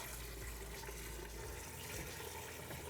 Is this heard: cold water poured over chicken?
yes